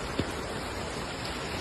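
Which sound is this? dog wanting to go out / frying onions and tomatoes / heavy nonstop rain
heavy nonstop rain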